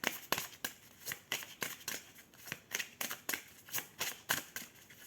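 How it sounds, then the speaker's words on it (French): A deck of tarot cards is shuffled by hand during a card reading, giving a quick run of crisp, papery riffling bursts at an irregular rhythm, close and fairly quiet, with no voice. "Alors, je rebats les cartes pour avoir un autre message."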